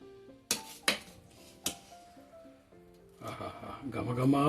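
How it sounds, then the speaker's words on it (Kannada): A spoon scrapes and clinks against a pot while vegetable pulao is mixed with deep-fried bread, a few sharp metallic knocks followed by softer stirring and scraping, with someone speaking throughout. "ಮೇಲೆ ಹಾಕ್ಕೊಂಡು ಚೆನ್ನಾಗಿ ಒಂದ್ಸಲ ಮಿಕ್ಸ್ ಮಾಡ್ಕೊತೀನಿ."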